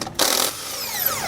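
A short burst from a power tool spinning off lug nuts with a 13/16 socket on a 2020 Thor Windsport motorhome: a loud, harsh whir for about a third of a second, then a fading, whining spin-down.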